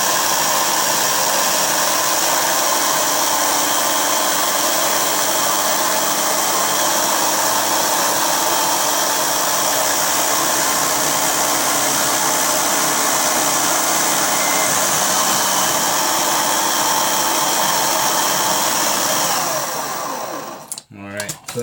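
A power drill bores steadily into a lock, its motor whining at a constant pitch for about twenty seconds before cutting off abruptly, heard up close with no talking.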